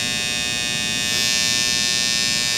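An Andis Styliner 2 hair trimmer runs after its blade tension has been adjusted, giving a steady, close electric buzz with a high whine that holds level throughout and no voices.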